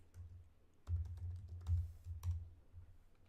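A computer keyboard is tapped while typing in Excel: a handful of soft, close clicks and clatters in a short burst, faint overall.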